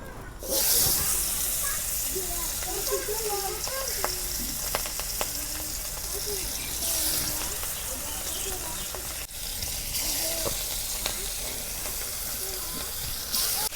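Pangas fish frying in hot mustard oil in a kadai, with a steady close sizzle and hiss throughout and occasional faint stirring clicks and crackles.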